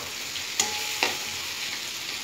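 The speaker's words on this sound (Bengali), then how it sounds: "মশলার সঙ্গে ভালো করে কষিয়ে নেব" Potatoes and soybean chunks fry with spices in a pan, giving a steady sizzle throughout. Two sharp scrapes of a stirring utensil stand out near the start, with no voices.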